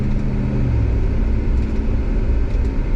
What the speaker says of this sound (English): Continuing acceleration, downshift, full speed.